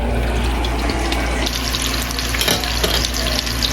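Food sizzles and crackles steadily in a hot pan with a spice ball, a dense close frying hiss with occasional pops and light stirring.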